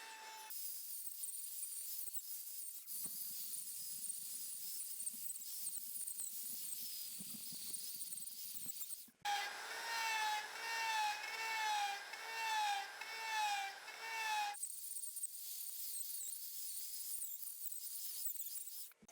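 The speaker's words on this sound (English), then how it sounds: "A Dremel allows us to round off those harsh chainsaw cuts." A Dremel rotary tool grinds down rough chainsaw cuts on a resin and wood head sculpture, a thin high whine with a rising, cycling buzz midway as the bit bites into the wood.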